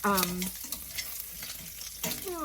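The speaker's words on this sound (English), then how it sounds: "I've got some bacon cooking" Bacon cut into inch-and-a-half pieces fries in a pan, a close crackling sizzle with stirring scrapes, briefly overlaid by a voice at the start and end.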